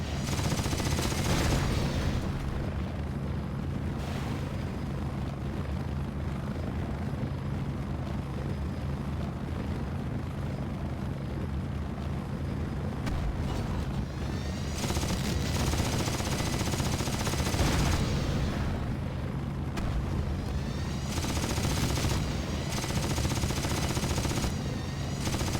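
Gunfire from a convoy chase in the Pursuit Force video game: a dense, continuous barrage of shooting and roaring engine noise that holds loud and steady throughout, with a few bright bursts of crackle and no speech.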